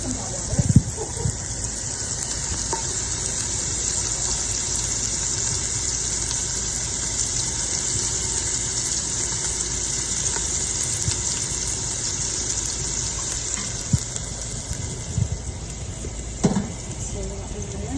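Tap water runs continuously into a pot, being filled to boil for shrimp and pork wonton soup. It makes an even, close gushing sound that lasts the whole clip, with faint kitchen clatter now and then.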